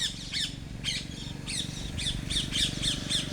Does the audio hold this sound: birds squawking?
yes